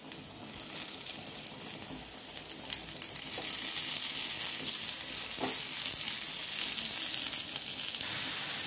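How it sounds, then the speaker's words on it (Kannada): Tomato with cinnamon and cloves fries in a pan, giving a steady soft sizzle that grows slightly louder midway, with occasional stirring scrapes and no talking. "ಹೀಗೆಲ್ಲ ಫ್ರೈ ಆಗಿದೆ, ಆಫ್ ಮಾಡ್ಕೋತೀನಿ"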